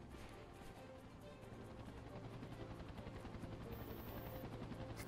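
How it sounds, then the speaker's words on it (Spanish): Helicopter in the Spider-Man 3 video game, a steady rhythmic rotor chop with buzzing engine drone, faint and continuous throughout, alone. "Imagino que irá por ahí ahora el helicóptero."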